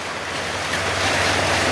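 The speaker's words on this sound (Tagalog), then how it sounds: "lakas ang ulan" Steady, dense rushing wash of noise, like heavy rain pouring down without pause, broadband and constant throughout.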